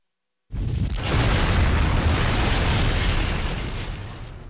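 In the video game Fuga: Melodies of Steel 2, the Tarasque war vehicle erupts in a huge explosion after a moment of silence, a sudden loud blast that swells into a sustained roaring rumble and slowly fades over several seconds.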